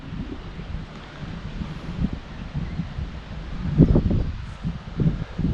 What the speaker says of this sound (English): It's quite breezy down here at the moment